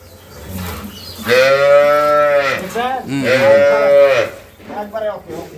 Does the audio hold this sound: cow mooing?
yes